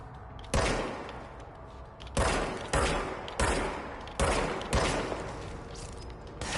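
Rapid bursts of gunfire from enemies in the action game Control, six or seven loud volleys cracking at irregular intervals, each decaying into a short echo, with no talk over them.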